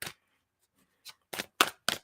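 A tarot card deck shuffled by hand in a few quick riffles, sharp papery bursts near and fairly loud after a brief opening flick, with short silent gaps between.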